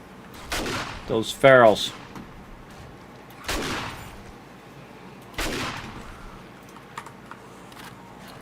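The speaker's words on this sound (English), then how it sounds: "This is a level 1 auto shotgun, by the way." A level 1 auto shotgun firing in 7 Days to Die: three loud, sharp blasts spaced a couple of seconds apart, with someone speaking briefly between the first two shots.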